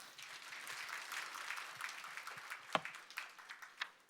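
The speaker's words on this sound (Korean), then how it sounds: "박수로 맞이해 주십시오." Audience at a Korean corporate AEO awards event applauds as a presenter takes the stage; fairly faint, distant clapping that builds into sharper individual claps toward the end.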